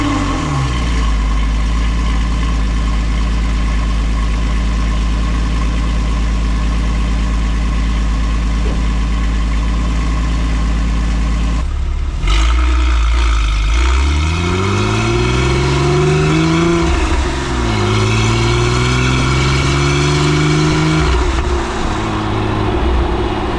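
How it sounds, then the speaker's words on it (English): A Porsche 996 C4S with a straight-piped, cat-delete X-pipe exhaust burbles loud and deep at idle, then revs hard, rising through two aggressive pulls under load with a raspy, unmuffled roar close by. "get some shots of what the exhaust sounds like, particularly under load"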